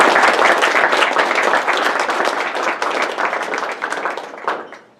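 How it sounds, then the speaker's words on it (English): Audience applause at an ASHRAE chapter evening meeting: dense, sustained clapping from a crowd that holds steady for several seconds, then thins and tapers off at the end. "One more round of applause for Paul, please."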